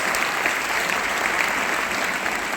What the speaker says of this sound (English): please give a round of applause to your teachers